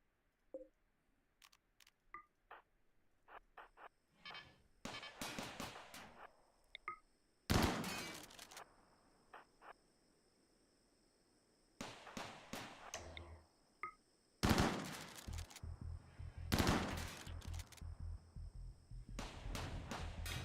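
Gunfire in a RimWorld game on 500% difficulty: several bursts of rapid, sharp shots separated by quiet gaps, with some volleys lasting a second or more and a few isolated single cracks in between.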